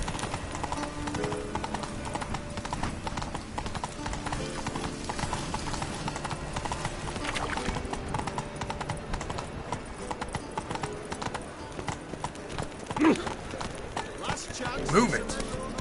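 A horse gallops with steady, rapid hoofbeats throughout a Witcher 3 game scene, the clip-clop continuous and close, with brief sharper sounds near the end.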